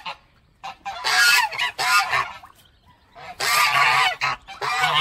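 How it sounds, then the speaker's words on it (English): Geese honking at a bed and breakfast in Guam: loud, close, repeated bursts of harsh honks with short pauses between them, and no talking. "Geese live a long time."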